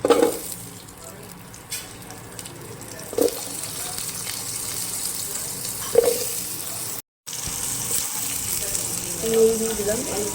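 Potato pieces fry in a pan with a steady, crackling sizzle. Occasional louder spatters and stirring scrapes come through, close by, with a brief dropout partway through.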